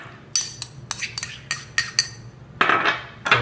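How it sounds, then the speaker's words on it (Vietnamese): Metal utensils clink and scrape against a pot and strainer in a kitchen as cooked 1:10 rice porridge for a baby is poured and handled, giving a series of sharp, close taps and a brief scraping run. "bây giờ mình sẽ đổ cái cháo mình đã dây vào cái cháo 1:10 mình đã nấu vào đây"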